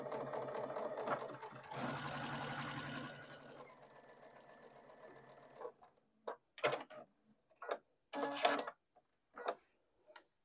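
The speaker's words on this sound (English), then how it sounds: "I'll just flip it over so I can sew with the seam allowances all going away from my needle." A sewing machine stitches a quilt block seam, first in a fast steady whir for several seconds, then slowing to a series of short separate bursts and clicks with gaps of silence between them.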